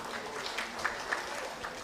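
Audience applause at a university event, a short, faint burst of scattered clapping heard from a distance with no voices over it.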